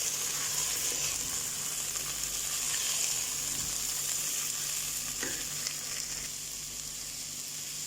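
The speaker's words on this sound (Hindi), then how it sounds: "अब चावल के साथ इन सब्जियों को भी हम थोड़ा भून लेंगे।" Rice fried with carrots and other vegetables for keema khichdi gives a steady, soft sizzle in the pan. The hiss stays even throughout, with an occasional faint stir and no voices.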